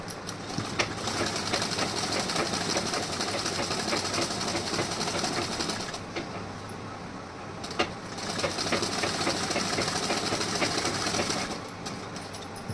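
Sewing machine stitching a blouse, a steady rapid mechanical whirr running continuously with a brief slowdown in the middle and a pause near the end, close and alone.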